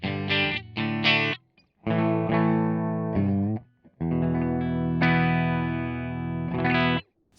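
An electric guitar rings out through a Boss GP-20 amp modeler pedal on a Fender amp setting without reverb, several sustained chords strummed with short silent gaps between them, no voices.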